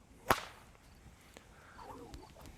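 A whip spun and cracked during a bodywrap move: one sharp, loud crack near the start, then quieter swishing and faint rustle as the whip is unwrapped.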